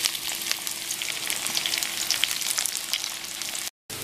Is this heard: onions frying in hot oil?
yes